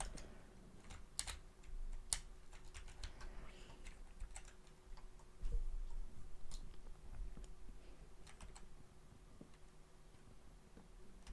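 Close, quiet clicking of keys on a computer keyboard that keeps disconnecting itself, irregular taps and short bursts of typing against a faint steady hum.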